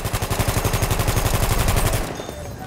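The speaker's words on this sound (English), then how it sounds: "Someone is in, I think, in the ballroom shooting at me." Rapid automatic fire from a light machine gun in the Battlefield video game rattles in a fast, even burst of close, loud shots for about two seconds, then cuts off to a fading echo.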